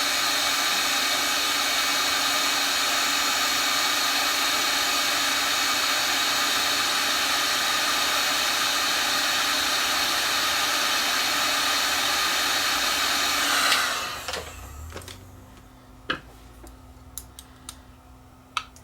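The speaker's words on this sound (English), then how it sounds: "We're going to use the heat gun, put some heat on the brass to expand it" Heat gun blowing on a brass pulley of a Nakamichi DR2 cassette deck, a steady loud hiss and whir for about fourteen seconds that then cuts off, leaving faint ticks and small metallic handling sounds.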